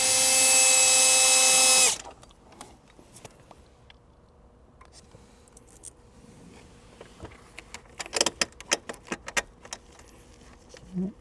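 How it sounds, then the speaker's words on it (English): A power tool removes a 10mm bolt during an amp and subwoofer install on a Toyota Tundra, heard as a loud steady whine for about two seconds, followed by quieter clicks, rattles and metallic taps of handling the parts. "let's remove this 10mm bolt"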